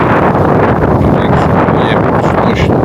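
Loud, constant wind buffets the microphone, with faint higher tones briefly cutting through the roar.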